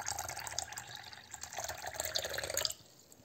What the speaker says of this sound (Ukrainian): Доливаємо ще води.